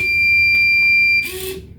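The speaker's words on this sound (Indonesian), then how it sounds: "jika tempat sampah terbuka, maka secara bersamaan buzzer dan LED biru akan menyala sebagai penanda tempat sampah telah terbuka" A piezo buzzer on a homemade automatic trash bin sounds as the lid opens, a loud steady high-pitched tone holding about a second before cutting off, followed by a short rattling clunk of the lid.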